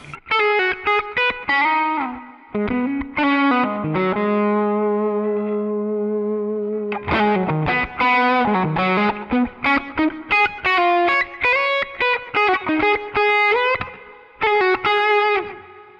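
Distorted electric guitar through a Quad Cortex Dumble-style amp tone plays a busy riff with a sustained chord in the middle, loud and crunchy with heavy gain, a touch of echo and no voices.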